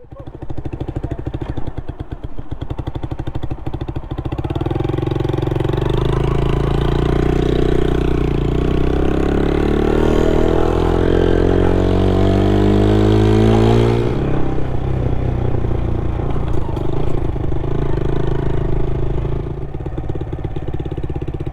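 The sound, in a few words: Yamaha YZF R125 motorcycle engine running with exhaust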